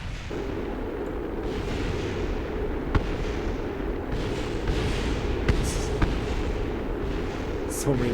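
Rocket parts blowing apart in Kerbal Space Program, a steady rumbling roar of explosions with a few sharp cracks and pops standing out, continuous and fairly loud throughout.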